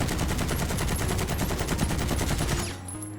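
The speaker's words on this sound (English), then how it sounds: "Cold War AK47. The gun has 30 rounds in one mag" A Cold War AK-47 fires a full 30-round magazine in Warzone: a rapid, loud, steady burst of automatic gunfire lasting almost three seconds that stops abruptly, leaving a quieter tail.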